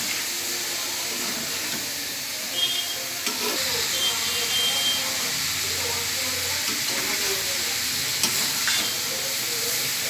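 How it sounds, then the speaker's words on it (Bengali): Vegetables stir-fried in a pan over a high flame for a Chinese-style vegetable dish, giving a steady broadband sizzle with a few scraping stirs, close and continuous with no talk. "এখন আমি ভালোভাবে একটু এগুলোকে ভাজা ভাজা করব চুলাটা কমাবো না অবশ্যই চুলাটা বাড়ানো থাকবে"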